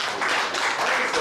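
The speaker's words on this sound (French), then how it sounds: "On va d'abord applaudir." A short burst of applause from a group at a workshop gathering, steady and fairly close, filling the whole moment without talk.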